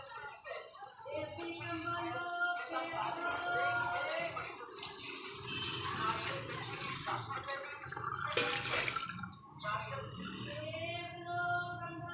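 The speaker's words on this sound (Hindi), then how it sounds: "अब इसकी यखनी डाल दिया" Beef stock pours into a pot of paya, a gurgling, splashing stream of liquid with drips and bubbling that swells and pauses, close up in a home kitchen while someone talks over it.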